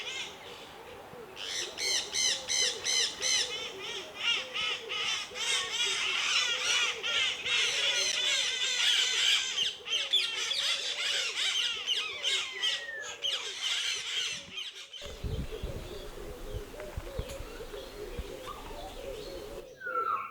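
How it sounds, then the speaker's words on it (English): Harsh, repeated squawks from a medium sulphur-crested cockatoo in a bird sanctuary aviary, loud and raspy, sounding in bursts over a bed of other bird chatter, with a low rumbling noise taking over near the end. "I think it's called a medium sulfur crested cockatoo"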